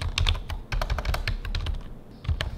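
Rapid keystrokes on a computer keyboard while working in CAD pattern-drafting software, a steady run of close, crisp clicks with short pauses, heard alone without talk.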